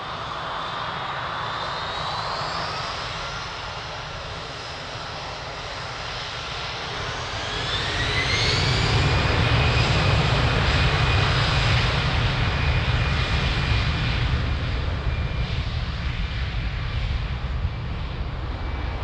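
A passenger airplane takes off from the runway at Lisbon Airport, its engine roar building from a distant whine into a loud, sustained rumble that holds steady before slowly easing.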